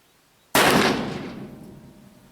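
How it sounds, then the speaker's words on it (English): A single sharp report from a Pietta 1858 gain twist black powder revolver fired at a target 21 yards away, loud and close after a quiet lead-in, with a long echoing decay. "We're firing pretty much point aim on that black square."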